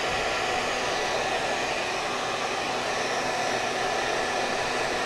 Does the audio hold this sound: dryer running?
yes